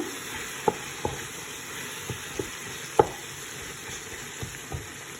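Onions, potatoes and spices frying in a pan, with a steady sizzle and a few sharp clicks of a spoon stirring against the pan, no voices.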